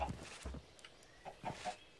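Minecraft chickens in a small farm pen give a few short, scattered clucks, fairly close and moderately loud, with quiet gaps between them.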